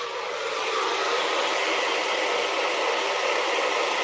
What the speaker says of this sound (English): turned the blow dryer too fast